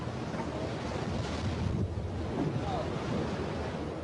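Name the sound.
ocean waves as a ship sinks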